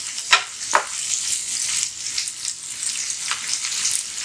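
Lamb kidney fries with masala in a hot pan, giving a steady close sizzle with a few brief sharp crackles and stirring scrapes near the start.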